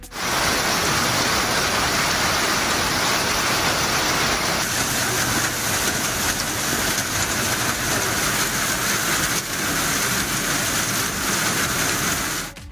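Heavy overnight rain falling across towns in a Tamil Nadu district, a dense, steady hiss that stays loud and unbroken from start to finish, with no voices.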